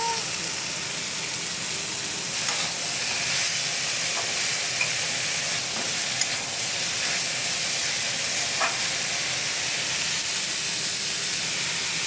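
Figs frying in a pan with ground cumin give a steady, close hiss of sizzling oil, broken by a few light stirring scrapes.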